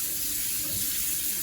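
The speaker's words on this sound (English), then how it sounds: "Now I'm just filling them up again with some cold water." Cold tap water gushes steadily into a pot of rinsed peas, a loud, even rushing stream with no break and no voices.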